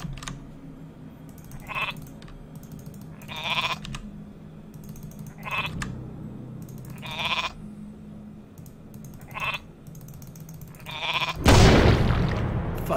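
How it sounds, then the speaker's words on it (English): Several short sheep bleats repeat at intervals over a low steady hum, followed by a sudden loud burst like a cartoonish explosion at the end, as a sheep explodes in WarCraft III. "An exploding sheep."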